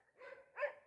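Dogs at a rural property in Los Cuachalalates, Michoacán, give two short barks, distant and faint, spaced about a third of a second apart.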